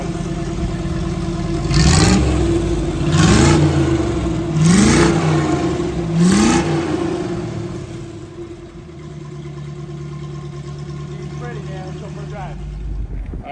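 The engine of a 1961 Corvette revs in four quick blips, each a sharp rising burst of exhaust over a steady idle, then settles to a lower rumble while someone talks.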